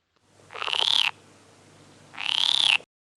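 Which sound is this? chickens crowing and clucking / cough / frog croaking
frog croaking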